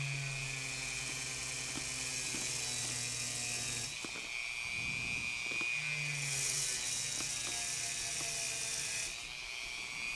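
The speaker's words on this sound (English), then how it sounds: "Now I'm going to use my Dremel with a wire brush attachment just to make sure that there's no paint or powder on the wheel" A Dremel rotary tool fitted with a wire brush attachment cleans the wheel treads of an HO scale SD40-2 model locomotive, giving a steady, close high-pitched whine with small buzzing shifts and scratchy contact sounds throughout.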